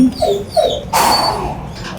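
A dog in an animal shelter kennel whimpers with a few short, high, close whines, followed by a louder burst of rustling noise.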